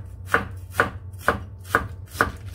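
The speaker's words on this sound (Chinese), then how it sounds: "先咧就切咗啲菜先" A kitchen knife chops vegetables on a board for dumpling filling, five crisp, evenly spaced strikes at an unhurried pace, close and clear against a quiet room with a low background hum.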